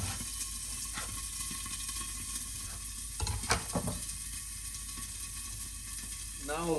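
Lamb neck sears in a pan with a steady, soft sizzle that runs throughout, with a few brief clatters of stirring or handling partway through.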